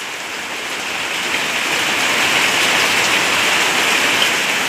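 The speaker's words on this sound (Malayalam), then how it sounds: "വീണ്ടും മഴയുടെ ശക്തി" Rain falls in a thick, continuous wash, building slightly louder over a few seconds, with no voices.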